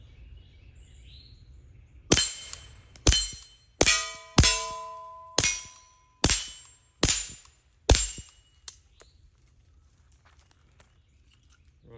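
A suppressed .22 LR rifle fitted with a red dot fires about nine shots at steel targets around 10 yards away, each a sharp crack followed by a ringing metallic clang that decays, in an irregular rhythm outdoors with birds faintly behind.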